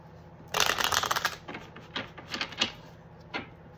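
A deck of cards being shuffled close up: a quick riffling burst, then several shorter soft riffles and flicks, with no talking.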